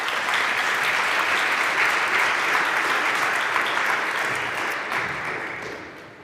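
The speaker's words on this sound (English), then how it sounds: "let's have a warm round of applause for Livia Kalusaka" Sustained applause from a conference audience, dense steady clapping that holds for several seconds and tapers slightly at the end, with no voices over it.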